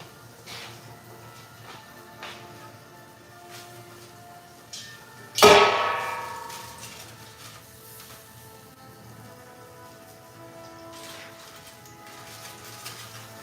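Honey garlic shrimp are dropped into a hot cast iron skillet, setting off a single sudden sizzling burst midway that fades over a second or so against an otherwise quiet kitchen background.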